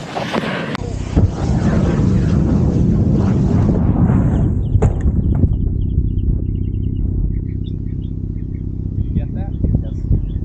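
LiPo battery burning inside a bat box after exploding, heard as a loud, sustained roaring hiss with rumbling that dies back to a steady crackling burn, with voices speaking over it.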